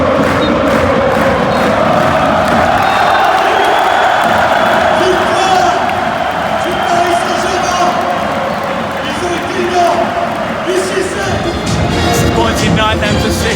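A large football crowd at the Parc des Princes during a PSG vs Man City match roars in a continuous, dense wall of noise with rising chants, while a commentator speaks over it.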